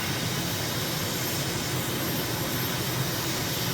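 In Microsoft Flight Simulator, a jet airliner climbs out of Stockholm after takeoff with gear and flaps up, its engines making a loud, steady, unbroken roar with a thin high whine on top and no talking.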